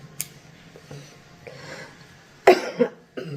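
A person with a cold coughs a few times at close range, with two sharp bursts near the end after a quiet stretch of faint background noise; no speech.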